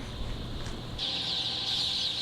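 Newly hatched chicks peep in a crowded poultry house. The high chirping forms a continuous, moderately faint chorus that grows brighter and denser partway through.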